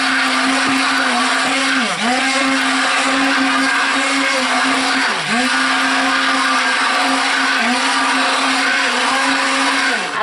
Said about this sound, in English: I am going to try to stick blend it together a little bit more